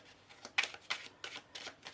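Rapid bursts of playing cards being shuffled, several crisp riffling flurries in quick succession, close and fairly quiet with no voices.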